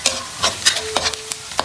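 Onions frying in oil in a pan, stirred with a utensil: a steady sizzle broken by several sharp scraping strokes, close and loud with no voices.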